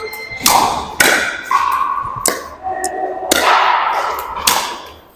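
Pickleball drive shots struck with paddles give sharp, hollow pops, several in an irregular rally rhythm, with ringing decay between hits.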